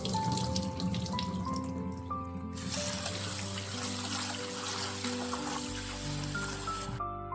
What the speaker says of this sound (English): Rinse it until water runs clear. I normally wash it 2 or 3 times.